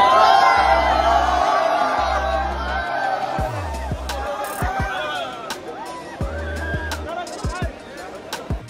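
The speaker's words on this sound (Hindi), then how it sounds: "अब एक्चुअल में कितनी भीड़ इकट्ठी हुई वो आप इस वीडियो में देख लीजिए" A large crowd gathers around Mr. Faisu, whooping and cheering loudly over pounding bass-heavy music. Scattered shouts and voices come and go throughout.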